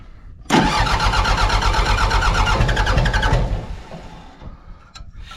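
An old Mitsubishi BD2F dozer's diesel engine, long unused, cranks and catches abruptly, running loud and rough close by for about three seconds before dropping off and fading.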